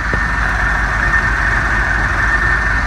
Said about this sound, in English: There's our port engine.